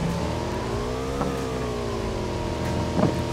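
A motorbike engine in a video game revs steadily, its pitch sliding up and down with a couple of sharper surges, loud and close throughout with no talk over it.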